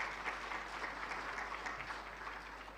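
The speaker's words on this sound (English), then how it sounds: "Please clap for the panelists as they come." Steady applause from a conference audience welcoming panelists onto the stage at an official opening event, a continuous even patter of many hands at moderate distance with no voices over it.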